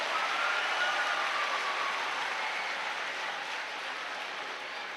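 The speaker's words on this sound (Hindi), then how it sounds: "हाँ अब बजाओ ताली।" Steady, dense clapping from a large crowd, sustained for several seconds without pause and gradually easing slightly toward the end.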